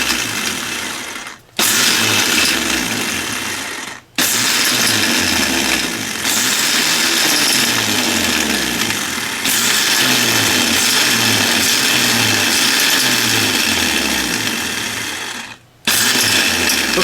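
A Toro CCR3650 snowblower's small engine cranked by its repaired electric starter, a loud steady churning run with rhythmic low pulsing, broken by three short pauses where the cranking stops and restarts.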